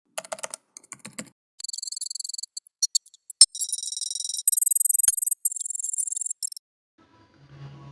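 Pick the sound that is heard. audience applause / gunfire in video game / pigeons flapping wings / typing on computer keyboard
typing on computer keyboard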